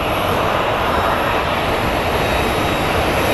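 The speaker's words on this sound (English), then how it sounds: "we're going to get our next plane landing from Spokane, Washington." A fixed-wing airplane arriving from Spokane, Washington roars loudly while landing at Phoenix Sky Harbor International Airport, a steady broadband engine rumble filling the whole moment.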